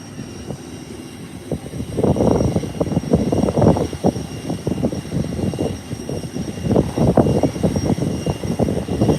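A fixed-wing aircraft at Howard Hamilton International Airport rumbles with loud, swelling engine roar that rises after a quieter start and stays strong, with a faint steady tone in the background.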